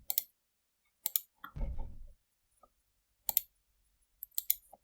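Computer mouse clicks while selecting bone landmarks in anatomy study software: a few clusters of sharp, close clicks separated by quiet gaps, with a brief soft rumble partway through and no voices.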